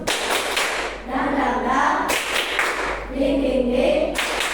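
A school class claps along in a rhythmic clapping game, sharp group claps landing in a steady pattern between stretches of children's chanting voices.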